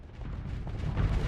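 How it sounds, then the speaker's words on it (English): Heavy thermal cannon fire from a ship in the space combat game Starsector, a dense, rumbling sustained barrage of booms that swells louder toward the end, with no talk over it. "Enjoy that thermal cannon temporal acceleration."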